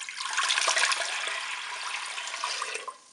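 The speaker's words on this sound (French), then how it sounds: "On va verser l'eau dans la cuve." Water poured into the metal bowl of a Cookeo multicooker, a steady splashing stream running for about three seconds before tapering off, close and moderately loud with no talking.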